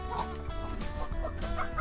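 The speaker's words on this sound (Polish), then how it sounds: "Pierwsze wychodzą z kurnika koguty" Roosters clucking close by as they come out of a henhouse, several overlapping birds making short repeated calls over a low steady background rumble.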